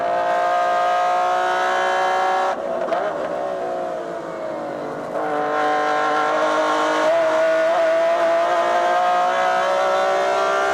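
A BMW M3 E46 GT2 race car accelerates flat out through the esses at the 2000 Petit Le Mans, its engine note climbing loud and close, dipping briefly on a lift, then rising again through each gear.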